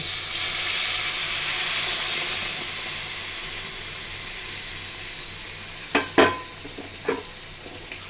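Pointed gourd and prawns fry in a pan as hot water goes in. A steady, close sizzling hiss fills the pan, easing slightly over time, and a few sharp stirring clinks come near the end.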